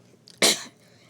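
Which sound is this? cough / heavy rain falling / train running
cough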